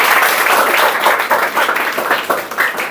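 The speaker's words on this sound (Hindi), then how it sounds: "इनके लिए भी जोरदार ताली से स्वागत है" Steady applause from an audience welcoming a student at a 10th-class results prize ceremony, dense clapping filling the whole stretch with small swells.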